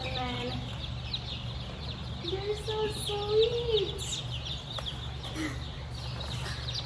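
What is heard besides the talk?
hens clucking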